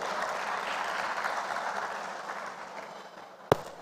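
A conference audience at a tech event claps in a broad, steady burst of applause that slowly tapers off, ending with a single sharp knock.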